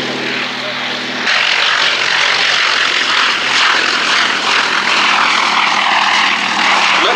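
A 1930s Gloster Gladiator biplane flies past at an airshow at Duxford, its piston engine giving a broad, steady roar that swells suddenly and holds loud and continuous.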